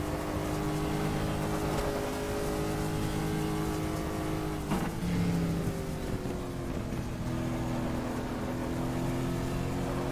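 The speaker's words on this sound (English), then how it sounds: "Cadillac naturally aspirated engine transformed into a twin turbo with 2 turbines" A Cadillac race car with a twin-turbo conversion of its naturally aspirated engine, making about 650 horsepower at Willow Springs in GTR2, drones steadily at sustained revs, shifts pitch briefly partway through, and carries on without any talk.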